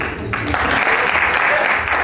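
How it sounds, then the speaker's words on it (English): Dinner audience at an annual meeting and appreciation dinner gives a loud, dense round of applause that fills the moment without pause and with no talking. "Please give them a big hand. Round of applause."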